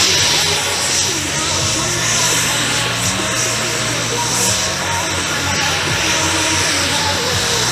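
Radio-controlled jet model airplane with a stock thrust tube flying a precision demo at an RC aircraft event, a steady loud whooshing turbine roar throughout with no pauses, under a faint hint of background voices.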